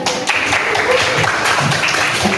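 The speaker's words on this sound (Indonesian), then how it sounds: "Oke, tepuk tangan dong." A classroom group claps together for a few seconds during a teacher's coaching lesson, with dense, steady, close applause and faint voices mixed in.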